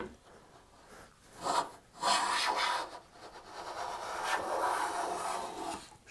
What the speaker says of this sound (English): Then you hear that voot, voot, voot as it's going through there. That's the different grain that I'm going through on the oak on this one.